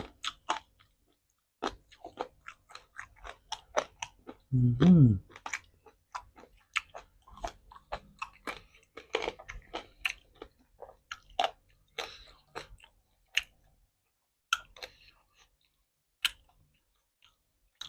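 Someone chews crunchy green snake larb made with pork, lime and toasted rice, eaten with sticky rice. Close, irregular crunching bites and wet chewing clicks continue for about eighteen seconds, with no talking.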